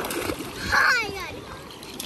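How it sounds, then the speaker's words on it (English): A big water splash at Ko Olina beach in Hawaii bursts loudly for under a second amid steady beach ambience, with a voice and other talk around it. "Oh, the big splash."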